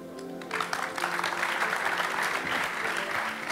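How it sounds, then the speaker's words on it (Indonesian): A youth church service crowd breaks into steady, full applause after a short pause, the clapping holding evenly at close range for the rest of the moment. "Kasih tepuk tangan dulu buat siapa? Mike sama Eli."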